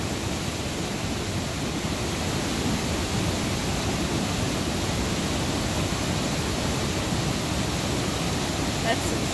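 Strong river current rushing past kayakers, a dense, unbroken roar of flowing water that stays loud and steady throughout, close to the listener.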